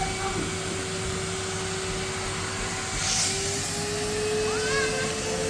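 A blue Henry Hoover vacuum cleaner running steadily nearby with a constant whine, used on a ball pit, its drone unbroken throughout with a brief voice or two faintly heard.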